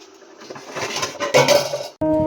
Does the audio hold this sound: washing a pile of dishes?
yes